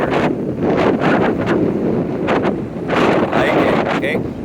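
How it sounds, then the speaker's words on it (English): Gusty wind on a beach buffets the microphone in loud, surging roars that rise and fall, with a voice speaking faintly beneath the rush. "the wind's a little bit gusty on the beach here"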